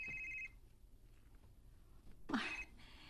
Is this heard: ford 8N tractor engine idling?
no